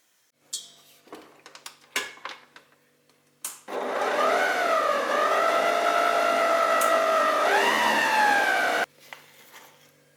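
Electric mixer whipping 200 g of 36% cream for a Turkish no-bake pudding dessert, a steady loud whirr that shifts pitch as the speed changes, with a few clinks and knocks before and after.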